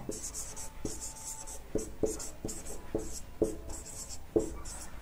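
Writing on a board during a Hindi grammar lesson, a series of sharp taps and scratching strokes coming about every half second, close and clear with no talk.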